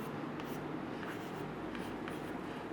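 Chalk or marker writing on a classroom board during a chemistry lesson, a steady scratchy scraping with short stroke-like pulses running the whole time, close and fairly loud, with no talk over it.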